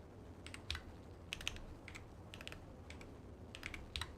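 Keys on a computer keyboard tapped in several quick bursts while entering a Google search, fairly faint and close, with short pauses between clusters and no talking.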